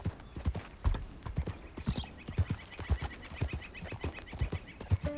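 Horse hooves clip-clop at a steady gallop in Red Dead Redemption 2 during a race with a thoroughbred, with a brief whinny partway through over continuous rhythmic hoofbeats.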